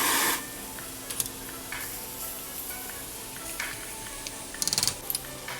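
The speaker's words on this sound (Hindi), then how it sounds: "सारे मसाले हम इस वक्त इसमें मिक्स कर देंगे।" Spices are stirred into okra and potato masala in a pan with the flame switched off, giving a soft steady scraping and faint residual sizzle, with a few sharper clinks of the spoon near the end.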